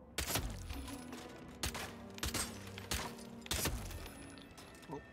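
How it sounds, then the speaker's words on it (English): Five loud gunshots ring out one after another in the Hitman VR game, spaced roughly half a second to a second apart, each a sharp crack that trails off with a ringing tail. "the first shot was pretty good. Can't say the four next shots were particularly good."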